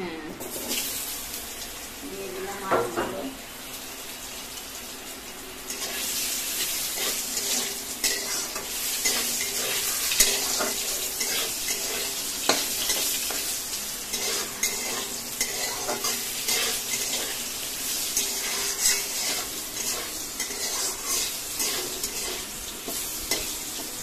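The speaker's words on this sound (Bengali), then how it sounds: "আলুটাকে খুব সুন্দর করে ভেজে নিই" Potato pieces fry in hot oil in a pan for a soybean and egg curry, with loud, steady sizzling and frequent scraping and stirring of a spatula close by. Faint speech appears once or twice.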